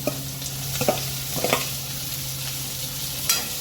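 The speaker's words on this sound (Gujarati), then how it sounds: "ડુંગળીને સ્વાદ અનુસાર મીઠું એડ કરીને ડુંગળીને સાંતળવા દઈશું" Chopped onions and green chillies are sautéed in a pan, giving a soft, steady sizzle with a few scraping stirs, faint and alone.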